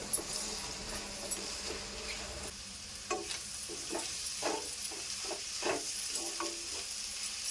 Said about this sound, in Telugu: కారం మంచిగా కలుపుకోవాలండి.